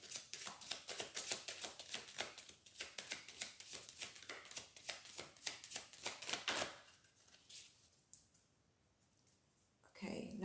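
Rapid papery riffling of a tarot deck being shuffled, repeated in quick bursts for several seconds, then near quiet before a soft rustle at the end.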